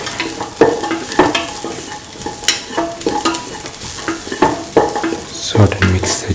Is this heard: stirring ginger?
yes